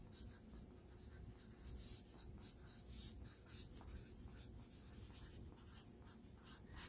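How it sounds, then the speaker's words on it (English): A marker scratches across the paper backing of a freezer-paper transfer sheet, close and steady, in repeated short strokes with light pauses between them. "Had my marker out here to remind myself to write on the back the name of the transfer."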